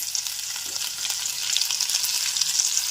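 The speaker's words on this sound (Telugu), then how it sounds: "ఇప్పుడు మెంతులు వేస్తున్నాను కమ్మని వాసనకి." Fenugreek seeds with garlic frying in hot oil for an egg and drumstick curry, giving a continuous close crackling sizzle with small pops and no talking.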